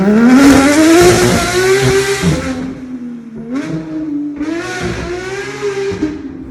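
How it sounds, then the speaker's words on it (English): A straight-piped Porsche GT3 RS exhaust revs loud and raspy and holds, drops off briefly, then revs again with a rising, crackling roar. "not only with the straight pipe exhaust"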